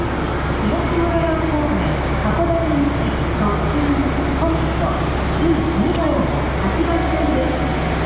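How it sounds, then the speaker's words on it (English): Steady rumble and rattle inside the Hokuto Express as it rides through Hokkaido in October, a continuous low hum of wheels on track under murmured voices of passengers nearby. "It's a nice little train."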